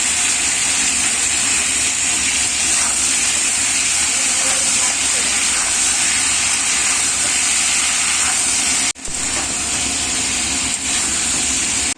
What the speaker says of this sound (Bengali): মাছের ঝোল কষানোর পর জল দিয়ে বসিয়ে দিলাম